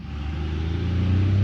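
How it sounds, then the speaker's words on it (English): A truck passes outside as a steady low engine rumble that swells and grows louder toward the end, with no voices. "let that truck go by"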